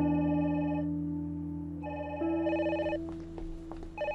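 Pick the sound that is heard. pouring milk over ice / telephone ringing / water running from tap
telephone ringing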